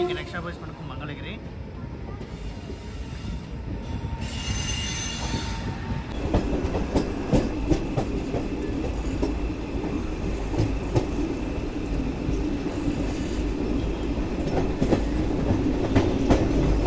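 The Simhadri Express rolls along just after pulling out of Vijayawada Junction, with a loud, continuous rumble of wheels and faint rhythmic clacks that grow denser partway through.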